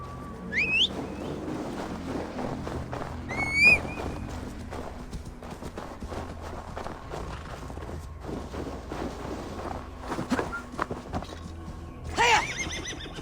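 A horse in Assassin's Creed Valhalla whinnies several times, shrill neighs near the start, middle and end, over steady clip-clopping hooves, with no talk.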